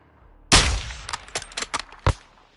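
Gunfire in the Call of Duty Modern Warfare II video game: one loud sharp blast followed by a scattered burst of several quicker shots and a final distinct crack, close and punchy against near silence.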